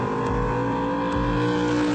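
A TVR's big Cosworth-tuned V8 holds a loud, throaty steady-state rev, with a deep rumble and a couple of low pulsing swells under a sustained engine tone.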